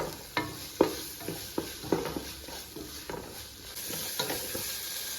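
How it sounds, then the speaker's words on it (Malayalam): Mint, coriander and curry leaves sizzle as they fry in a pot for chicken biryani, with a spoon scraping and knocking through them in irregular strokes over a steady hiss, close and fairly quiet, no voices. "പുതിനയില, മല്ലിയില, കറിവേപ്പില ഒന്നുകൂടി ഇളക്കി കൊടുക്കാം."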